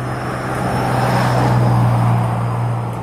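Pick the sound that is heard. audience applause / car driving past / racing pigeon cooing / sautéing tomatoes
car driving past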